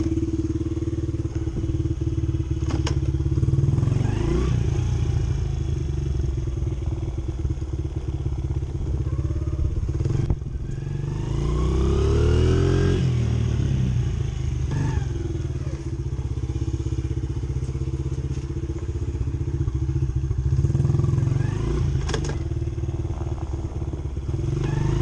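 A Honda XR70 motorcycle fitted with an 88cc BBR kit and re-jetted carburetor rides continuously, its small engine buzzing loudly and close, revving up and down, with occasional thumps and clatter.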